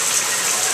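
Water gushes steadily from a shower in a condo unit under inspection, a loud continuous hiss of running spray with no talk over it.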